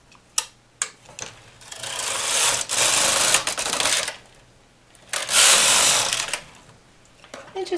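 Carriage of a home knitting machine swept across the needle bed for two rows of English rib on a cloche hat: clicks and clacks, then two long loud mechanical whirring passes with short pauses between.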